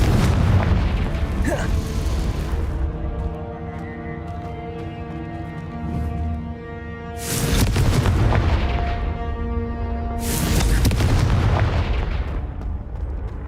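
Repeated Confringo fire blast spells explode in the Hogwarts Legacy video game, with loud booming blasts bursting out twice over a steady layer of game sound.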